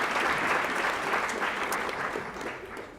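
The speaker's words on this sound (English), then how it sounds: "How about a round of applause for one of Juniata's oldest traditions?" An audience at a college oratorical contest applauds in a brief, fairly close burst of clapping that swells briefly, then gradually fades over a few seconds.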